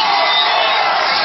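A large crowd at a political rally in Madhubani cheers and shouts in a loud, continuous roar, dense and unbroken throughout.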